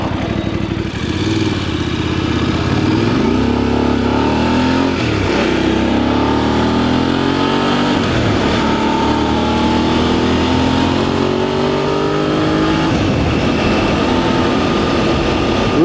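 A VOGE DSX 900 motorcycle engine in sports mode runs loud and close, its note rising and falling through revs over a steady drone, with no talk.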